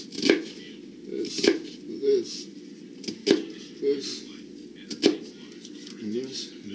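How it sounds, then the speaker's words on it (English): A knife chops an onion on a board with a handful of sharp, well-spaced cuts, close and distinct, while someone talks quietly in between. "cut up this onion"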